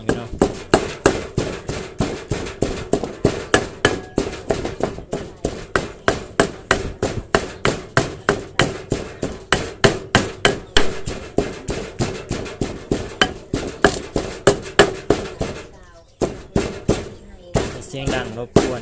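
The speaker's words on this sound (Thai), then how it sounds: "ตอนนี้กำลังโขกข้าวเบื่ออยู่พี่น้องไอ้ทำข้าวเบื่ออยู่เนาะ" Rice pounded in a mortar to make ground rice for a Lao-style cassia leaf stew: loud, steady thuds repeating at about three per second, close and continuous, with a brief pause near the end before the pounding resumes.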